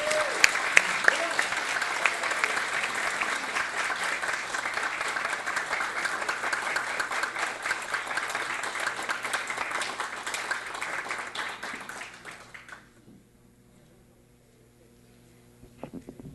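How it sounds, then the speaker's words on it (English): A room full of people at a literacy tutor awards ceremony applauds steadily for several seconds, the clapping dense and even before fading out into near silence. "Please give them a round of applause."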